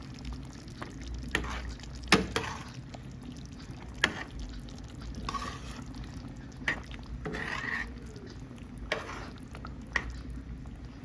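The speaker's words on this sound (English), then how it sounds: "Now we're going to add our eggs. And just submerge them into the gravy." Eggs slide into a pot of curry gravy and get pressed under, giving quiet wet squishes, soft stirring and occasional light knocks against the pot, close and faint.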